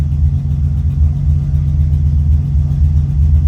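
A car engine idles steadily inside a garage, a loud, close, low rumbling hum with a regular throbbing pulse and no change in pitch.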